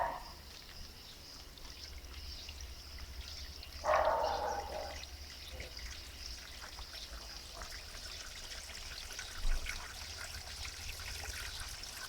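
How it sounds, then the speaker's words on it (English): Water trickles and pours steadily in an aquaponics system as the flow starts up again. A brief louder splash rises once, and a soft bump comes later, all fairly quiet. "Water's flowing again."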